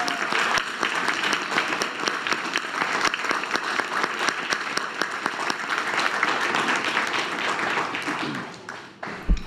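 Sustained applause from a school board meeting audience, dense and steady clapping that carries on for several seconds before tapering off at the end.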